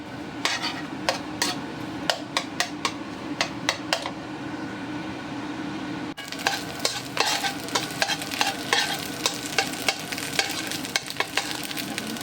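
A sauce stirred in a pan for chicken with salted eggs sizzles and bubbles steadily, with repeated sharp scrapes and clicks of a spoon against the pan, close and moderately loud.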